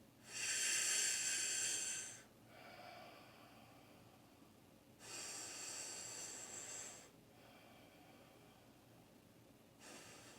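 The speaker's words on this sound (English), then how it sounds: "We've got one more round of belly breathing" Deep belly breathing during a pranayama breathwork session in a park: two long, loud breathy inhales or exhales of about two seconds each, separated by quieter pauses, with a third breath starting at the end.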